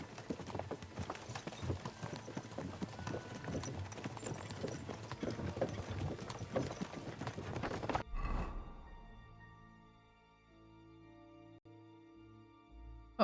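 Horse hooves clip-clop in a steady walking rhythm in the video game Kingdom Come: Deliverance 2, close and continuous before cutting off to a quiet ambient tone.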